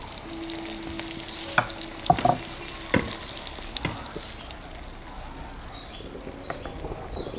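Beaten eggs and tomato frying together in a pan give a faint, steady sizzle with a few scattered clinks and stirring knocks, and no one speaks.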